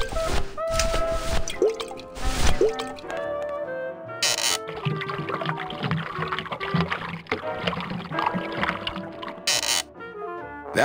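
Liquid drips and splashes as a drink is poured in the Grim Fandango Remastered video game, wet squishy pattering over a steady musical score, with short bright bursts near the start and end.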